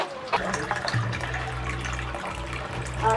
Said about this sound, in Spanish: Acá vamos a recargar agua para el camino